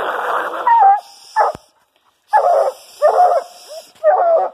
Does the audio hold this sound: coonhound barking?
yes